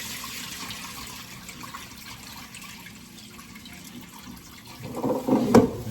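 Water from washed raw chicken is poured out while cooking curry brown stew chicken, a soft trickle that swells near the end into a brief louder splashing gush.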